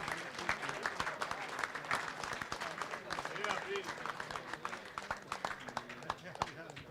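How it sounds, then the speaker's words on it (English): Banquet audience at a Georgetown University remembrance dinner applauding, dense continuous clapping from many hands, moderately close, with voices mixed in under it. "could we have a little applause for Dave Costco?"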